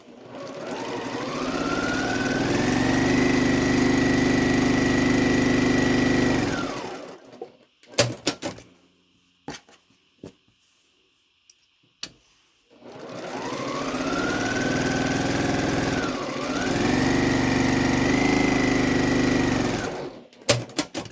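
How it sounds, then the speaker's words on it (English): A sewing machine stitching quilt pieces with quarter-inch seams runs in two long, steady buzzing bursts, each about six to eight seconds, separated by a quiet pause with small clicks and handling sounds. "we're going to sew on both sides of both lines. So we're going to sew 1/4 inch each direction"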